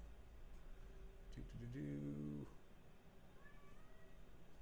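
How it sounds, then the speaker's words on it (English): A house cat meows once, close and clear, a short rising-and-falling call lasting about a second, with a faint second mew after it, over a steady low room hum. "My cat's giving me shit right now."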